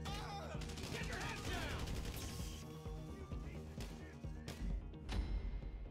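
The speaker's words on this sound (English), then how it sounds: "Trying to shoot through the gap." Dense, sustained gunfire in a casino robbery video game, rapid bursts and loud shots layered over crashing effects throughout, with no talk.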